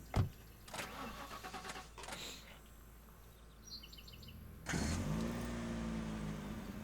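A car engine starts in The Last Stand: Aftermath after a door clunk and quiet shuffling, turning over and catching into a steady mid-pitched idle that holds to the end.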